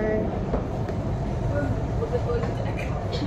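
A metro train rumbles steadily at the MRT Kajang station, a low continuous rail drone with faint squeals, while people chat nearby over it.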